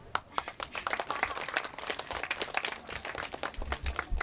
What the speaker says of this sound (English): I think this deserves an applause.